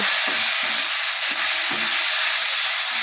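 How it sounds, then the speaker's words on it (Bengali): Onion paste hits hot oil in a spice tempering, a loud, bright, continuous sizzle with short rhythmic scrapes of a spoon stirring through it, close and with no voices. "বড় চামচের এক চামচ পেঁয়াজ বাটা দিয়ে দেব"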